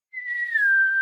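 A single clear, sustained whistle holds one high pitch, sliding slightly downward, loud and close with nothing else around it.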